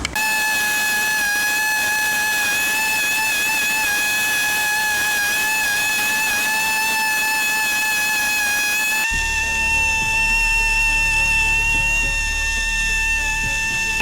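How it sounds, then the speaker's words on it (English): An air compressor and a die grinder porting a Honda Civic engine in a workshop give a steady, loud whine with sustained tonal bands, changing abruptly to a different grinding drone about nine seconds in. "That's the sound of the compressor and Matthew using the die grinder"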